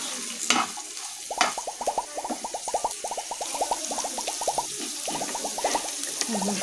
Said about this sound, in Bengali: আলুটা এবং গাজরটা আগে একটু ভেজে নেব